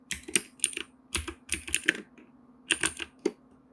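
Bursts of typing on a computer keyboard, entering a short word in a 3D clothing-design app, with clusters of close, crisp key clicks separated by brief pauses and no talking.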